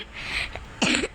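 A person coughs, one short throaty burst near the end after a softer breathy throat sound, heard close and alone.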